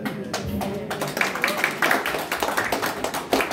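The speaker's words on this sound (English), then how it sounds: "so at least that's a clap for the Germans, right?" Scattered clapping from a church congregation, a steady patter of many hands at moderate volume, with some murmuring underneath.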